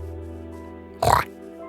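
A pig in a console-edition video game gives a single short, close oink over a steady hum of game background sound.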